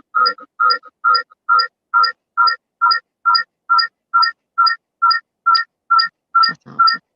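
A phone ringtone rings loudly and close, a steady series of about fifteen identical bright electronic chirps in even rhythm, with a faint rustle near the end.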